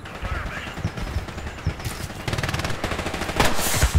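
Gunfire in the World War II shooter game Hell Let Loose, rapid machine-gun bursts and scattered rifle shots crackling in quick succession, growing louder and denser toward the end, with voices faintly underneath.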